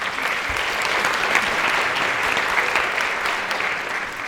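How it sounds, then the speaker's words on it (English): An audience at a school spring choir concert applauds, a dense and sustained wash of many hands clapping in a hall, steady and fairly loud throughout with no clear speech. "Will you give yourselves a round of applause?"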